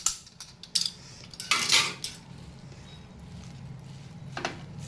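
Leafy greens go into a pan of smashed tomato and spices and get stirred with a metal utensil, producing close clinks and scrapes against the pan, a soft rustling slide of leaves, then quieter stirring.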